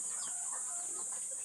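A bantam rooster clucking in short, soft bursts over a constant high-pitched background hiss, fairly faint and continuous throughout.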